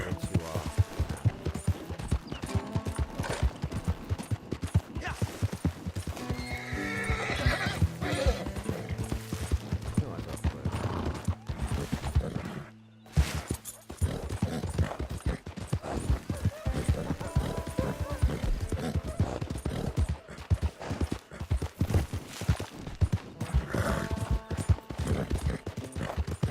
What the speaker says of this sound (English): this is our horse, first horse actually